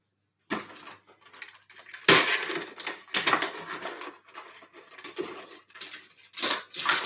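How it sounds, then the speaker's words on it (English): Raw prawns being shaken in a bowl of cornflour make irregular bursts of rattling and clattering, close and fairly sharp, separated by short pauses. "I'm just going to give them a little shake in the bowl."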